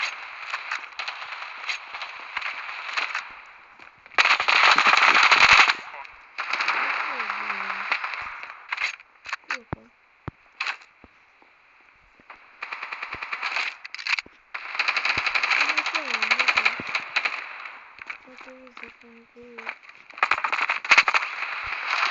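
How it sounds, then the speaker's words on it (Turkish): Bursts of rapid automatic gunfire from the mobile shooter Standoff 2 crackle in short and long volleys with gaps between, alongside a voice speaking at times. "Abi yavaş sıkıyorum ya çok sıkıyorum sıkıyorum"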